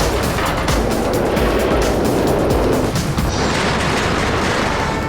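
Roller coaster train loaded with sandbags in place of passengers, sent once around the track at full speed, producing a loud continuous rushing roar with rattling, clattering bursts throughout.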